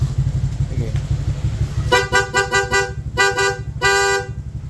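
A Honda Click V3 scooter horn honks in a series of short beeps, then two longer blasts, loud and close over a steady idling engine.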